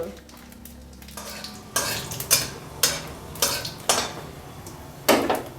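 Dry red chillies, bay leaves and panch phoron fry in mustard oil in a pan, a faint sizzle under a series of sharp scraping spoon strokes against metal, roughly one every second, close by.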